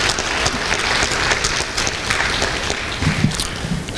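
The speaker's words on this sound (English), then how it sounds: "let's give those supports a round of applause for the folks around us" An audience at a high school awards night applauds, a steady, dense wash of clapping from many hands that holds for several seconds without talk.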